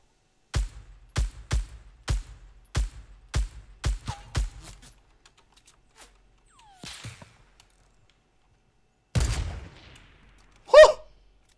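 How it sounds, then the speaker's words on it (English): Gunfire in the Fortnite video game: a fast, even string of about nine sharp shots close by, then quiet, followed by a few scattered clatters and one more loud burst. "Someone was shooting at him from across the way"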